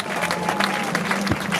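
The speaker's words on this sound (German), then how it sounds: "Lasset das Volk lieber die Tugend spenden durch Handgeklapper und Jubel" Crowd applauding at a medieval castle festival, dense steady hand clapping from many spectators filling the whole stretch, with a few scattered voices mixed in.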